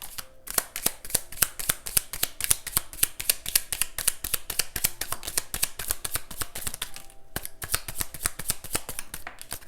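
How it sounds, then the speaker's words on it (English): A new, slippery square tarot deck is shuffled in a rapid run of crisp card riffles and snaps for nearly ten seconds, close and continuous with a short pause near the end. "it's slippery, and it's a little bit hard to shuffle, but I'm going to try my best here"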